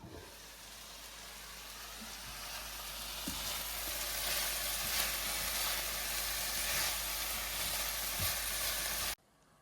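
Okra frying in a pan gives off a steady, dense sizzle that builds slightly and holds close and loud for about nine seconds, then cuts off abruptly near the end.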